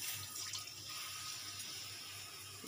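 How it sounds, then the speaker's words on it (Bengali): Lentil water poured into a cooking pot for dhokar dalna: a faint, steady splashing pour that runs evenly and quietly for the whole few seconds. "সেই ডালের জলটা দিয়ে দিলাম।"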